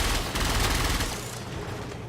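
Rapid weapon fire from a fast-firing gun in the game Warframe, a dense continuous burst of shots lasting about a second and a half, loud and close, then easing into a quieter tail.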